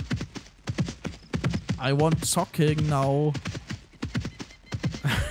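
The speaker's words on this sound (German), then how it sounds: "Gut, das Pferd kann auch rückwärts reiten." Horse hooves clip-clop in a steady rhythm within the DayZ video game, and a loud whinny rises over them in the middle, while a person talks over part of it.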